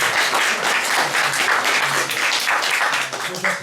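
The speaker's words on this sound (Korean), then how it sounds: "우리 환영의 박수를 좀 다시" Sustained applause from a church congregation at an opening worship service, welcoming a member who has stood up; dense, steady clapping fills the room throughout with faint voices murmuring beneath.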